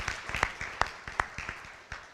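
Scattered audience applause after a fellowship presentation in a lecture series, a handful of distinct sharp claps spaced irregularly over a quiet room, moderately near and fairly faint.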